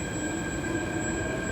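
An MTR K-train rolls toward the depot at Tung Chung station, a steady rumble of wheels on rail with a thin high squeal running over it, heard from the platform without talk.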